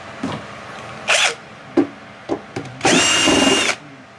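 A power tool drives out the side panel screws of an RZ Solar 3.2KW hybrid MPPT solar inverter. Several short whirring bursts come first, then a longer buzzing run of about a second, all close and clear with no talk.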